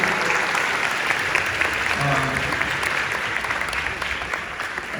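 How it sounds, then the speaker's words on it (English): Steady applause from an audience fills the whole stretch, dense clapping at an even level without letting up. "you should give yourself a big round of applause for that."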